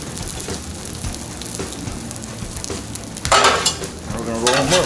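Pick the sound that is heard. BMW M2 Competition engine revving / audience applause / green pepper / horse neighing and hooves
green pepper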